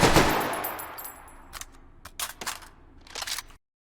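A Madsen LAR rifle in H3VR fires fully automatic: a loud opening burst decays into ringing, followed by several short clattering bursts and mechanical clicks before cutting to silence.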